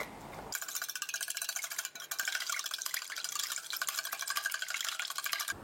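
Crêpe batter being whisked in a bowl, with a steady, rapid scraping and clicking of the whisk against the sides that runs close and continuous for several seconds, with no talking.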